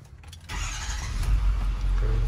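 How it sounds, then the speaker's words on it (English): A 6.4L Powerstroke diesel truck engine cranks briefly, then fires and settles into a deep, rumbling idle, close and steady. "Now I'm gonna start up the truck"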